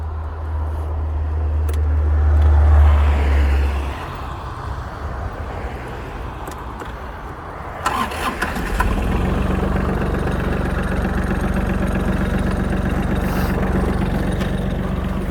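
Iseki Sial 193 Japanese mini tractor with 661 engine hours, a low rumble and whir at first, then the diesel engine catches around midway and settles into a steady, loud, close idle.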